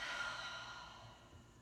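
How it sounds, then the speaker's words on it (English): A long, breathy exhale released through the mouth during a core-strengthening yoga session, a steady airy rush that fades gradually over about a second and a half, close and fairly quiet. "Exhale out the mouth."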